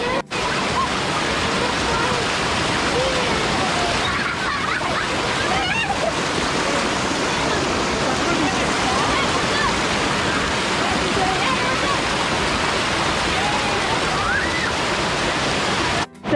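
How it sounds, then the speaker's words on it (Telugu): Aira waterfall and its stream in the Lake District, UK, a loud, continuous rushing roar of falling and flowing water close by, steady throughout, with faint voices of people playing nearby. "మేమైతే వాటర్ ఫాల్స్ పక్కకే వచ్చేసాము."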